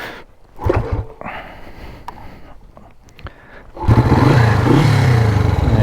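A Honda super sport motorcycle engine fires up after a few seconds of scuffing and handling noises, then settles into a loud, close, steady idle.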